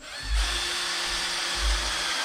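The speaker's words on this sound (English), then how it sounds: "just running those screws in there, like so. I've got my clutch set to only drive so far in because these are long." Cordless drill driving long screws into wood with the clutch set to limit depth, a steady close whine with low pulsing bursts as each screw bites.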